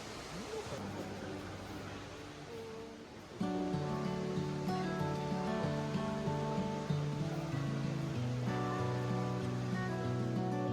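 Rushing water from the indoor waterfall cascading through the tropical Cloud Forest at Gardens by the Bay, Singapore, a steady broadband wash that runs beneath louder tonal music throughout.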